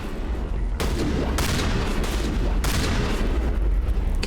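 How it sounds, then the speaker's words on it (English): Shotgun fire in Mass Effect Legendary Edition: loud, dense gunfire bursts with sharp blasts near 0.8, 1.4 and 2.6 seconds over continuous rumbling combat noise. "Man, this shotgun's actually pretty good."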